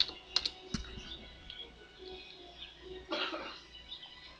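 Keys clatter on a computer keyboard as a web address is typed, a few sharp clicks followed by a softer quick burst of typing near the end, close and fairly quiet.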